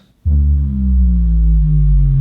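A sustained, stretched-out tone starts abruptly and slowly slides downward in pitch, loud and droning, with no talking.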